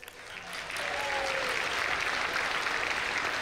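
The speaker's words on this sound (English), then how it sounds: "So one more round of applause for all the winners." Gala awards ceremony crowd applauding the winners of a company competition, clapping swelling within the first second into a broad, sustained roar from a large hall audience, with faint voices beneath.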